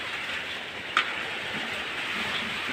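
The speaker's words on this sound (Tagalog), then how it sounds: "lakas ng ulan sa labas" Steady, dense hiss of heavy rainfall continues throughout, with one brief sharp knock partway in.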